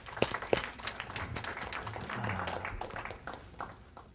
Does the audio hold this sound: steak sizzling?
no